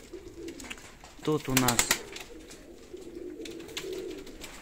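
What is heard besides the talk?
Armenian pigeons cooing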